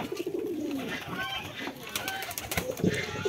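A female pigeon, paired with a wild male, coos softly in a village coop in winter. The low, faint calls repeat over quiet background sounds.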